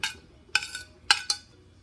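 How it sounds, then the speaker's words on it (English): Cooked, peeled and deveined shrimp being chopped with a knife: four sharp clicks spaced unevenly, each striking a cutting board close by, with quiet gaps between and no talking. "a pound of shrimp that I cooked, peeled, and deveined. And I chop them."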